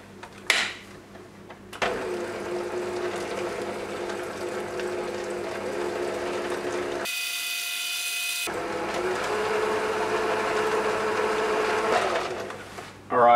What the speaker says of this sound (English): with the beaters on a low speed,